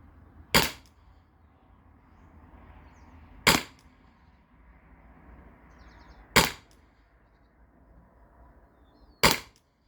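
A Salt Supply less-lethal launcher fires rubber rounds outdoors, four sharp loud shots spaced about three seconds apart, each with a short decay, over a quiet background and no talk.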